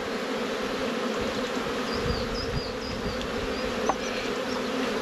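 Honey bees buzz thickly around an open beehive being split into nucs, a constant close hum with a few faint high chirps and light knocks of handled frames.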